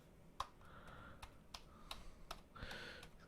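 Typing on a PS2 keyboard hooked up to an F256K computer: scattered individual key clicks at an uneven pace, faint and quiet.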